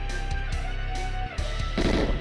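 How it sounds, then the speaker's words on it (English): Explosions in the GoldenEye video game on Xbox Live Arcade boom out as a few sharp, loud blasts with rumbling tails, and a heavier burst swells near the end. "And the explosions as well."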